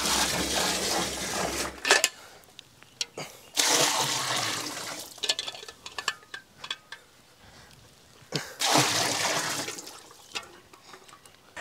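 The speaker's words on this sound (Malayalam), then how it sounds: "നല്ല തണുപ്പിച്ച പാലെടുത്ത് നമ്മൾ ഇതിലേക്ക് ഒഴിച്ചു കൊടുക്കുകയാണേ" Chilled milk poured into a rose milkshake drink: gushing, splashing liquid bursts near and fairly loud, each lasting one to two seconds, separated by quieter handling clatter.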